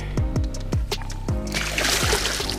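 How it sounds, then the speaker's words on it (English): A landed carp thrashes at the shore, throwing sharp wet splashes in a quick irregular series, close by and then breaking into a broader splattering spray. "the fish splattered me. I'm all wet."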